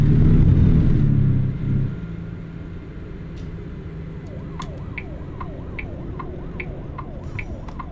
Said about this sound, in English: Why do I hear police coming after me again?